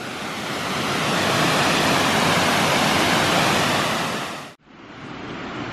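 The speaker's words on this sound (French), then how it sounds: "on arrive devant une autre cascade" Loud, steady rushing roar of an artificial waterfall in Japan, close by and continuous, briefly cutting out near the end before resuming slightly quieter.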